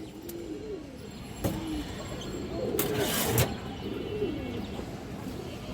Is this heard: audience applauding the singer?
no